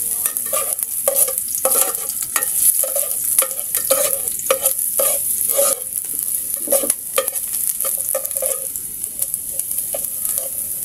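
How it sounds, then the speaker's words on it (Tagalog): Ginger sautés in hot cooking oil with a continuous bright sizzle, broken by repeated stirring scrapes and clatters in an uneven rhythm, heard close and loud. "Kapag mainit na yung ating mantika, magigisa na tayo ng luya."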